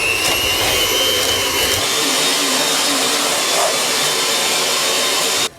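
An electric kitchen mixer runs while making a vegetarian pâté chinois, its motor giving a loud, steady whirring roar close by that holds for several seconds and then stops abruptly.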